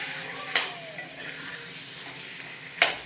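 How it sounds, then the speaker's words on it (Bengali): Fried spice mix being stirred in a hot frying pan, a soft steady sizzle with two sharp scraping clinks of the utensil against the pan, quiet and close. "কিছুক্ষণ ভালো করে নাড়াচাড়া করে নেব"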